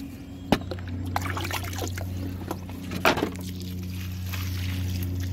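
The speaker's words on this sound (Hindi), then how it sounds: "देखिए पानी डालते हैं।" Water poured onto the soil of a plant pot, a soft trickling and splashing over a steady low hum, broken by a couple of sharp knocks, recorded close.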